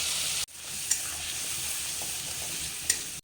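Paste of tomato, onion and green chili frying in hot oil, a steady close sizzle with two brief scraping stir accents, no voices.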